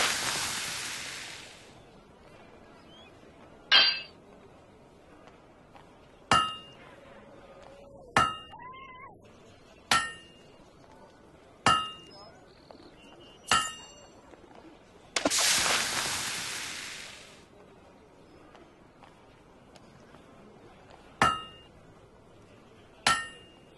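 Metal blade hammered at a forge in the Fable 2 video game: about ten sharp, ringing strikes at a steady, unhurried pace, with two longer hissing bursts among them and no talking.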